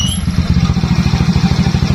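A 59 bore motorcycle engine sputters with a steady, fast low pulsing, like it is turning over or barely running after a battery change. It is loud and close, and nobody speaks.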